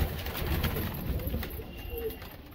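Soft, close cooing from wild red Sonipat Lalban pigeons kept in a net, over a steady background hum, with a voice talking at times.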